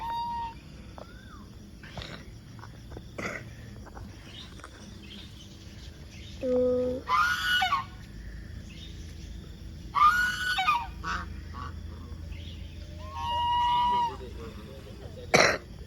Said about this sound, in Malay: Kita jumpa ada parrot atau burung.